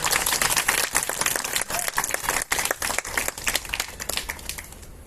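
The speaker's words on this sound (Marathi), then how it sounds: "जोरदार टाळ्या यांच्याकडे" An audience claps loudly and continuously for Rahul Vasant Dasare at a felicitation event, a dense, sustained round of applause with no pauses.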